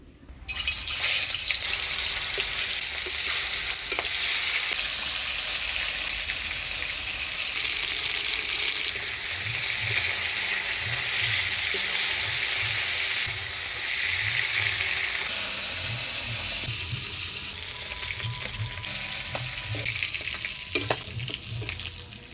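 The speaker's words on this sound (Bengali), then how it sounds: "উনান ধরিয়ে নিলাম, মাছটা ভেজে নিই" Fish frying in oil over a village wood-fired clay stove makes a continuous loud, close sizzle and hiss, with periodic low stirring or turning sounds throughout and no voices.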